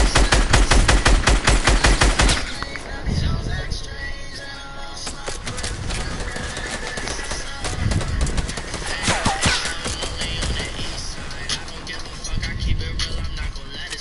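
Rapid bursts of gunfire from the Fortnite video game rattle loudly at first, then continue as scattered shots under game sounds while players talk.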